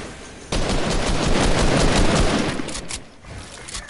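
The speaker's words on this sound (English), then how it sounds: "Don't shoot at me, Lucas." Rapid automatic gunfire from the Fortnite video game bursts in loud and dense, a sustained fusillade of overlapping shots that thins out toward the end, with no voices.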